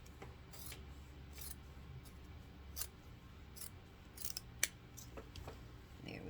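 Scissors cutting the corner off a fabric grocery bag, making faint, close snips and rustles at irregular intervals over a quiet background.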